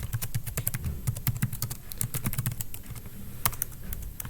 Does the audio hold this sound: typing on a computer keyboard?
yes